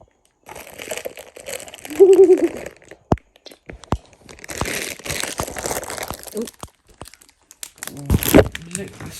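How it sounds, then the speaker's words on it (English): Crisp packet crinkling and crunchy chewing of crisps aboard a narrowboat, with bursts of rustling and sharp clicks, close to the microphone, mixed with people talking. "Just finish your crisps. I'm going to hear you chew it"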